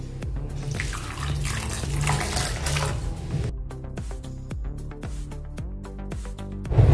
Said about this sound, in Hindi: अभी इसमें पानी डालकर रख देंगे।